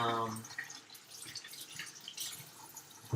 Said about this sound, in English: wash my hands real quick because that oil is a little messy